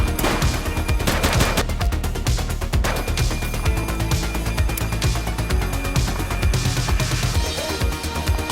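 Gunfire rattles through the police video game The Precinct, with loud, dense bursts of rapid shots running without a break from start to finish.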